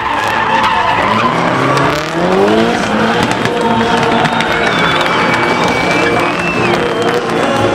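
Drift car tires skid and squeal at a drift race on the Vidin Airport track, a loud continuous screech with engine roar throughout and a crowd faintly audible underneath.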